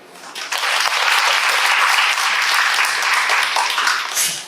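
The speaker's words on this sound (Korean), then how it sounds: "박수는 쳐줘야죠" An audience at a lecture on blessing breaks into steady applause for several seconds, moderately loud and even, then tapering off near the end.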